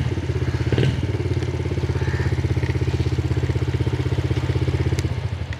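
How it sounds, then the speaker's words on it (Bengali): A 50cc Alif GTS kids' motorcycle engine running steadily close by, with a fast even putter and a brief bump near the start. "ইঞ্জিন সাউন্ডটা শুনছেন"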